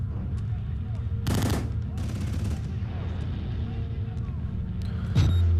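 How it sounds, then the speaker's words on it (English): Gunshots in the horror video game Outlast Whistleblower ring out from below: a couple of sharp bursts followed by a denser rattling volley, then a closer crack, over a rumbling ambient background. "some gunshots down there"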